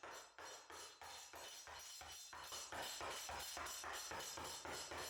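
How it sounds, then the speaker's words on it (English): A hammer strikes wooden boards again and again to dent them, about three even blows per second, each a close sharp knock with a short ring, steady throughout with no voices. "I used a hammer and started hitting the boards to get dents in them"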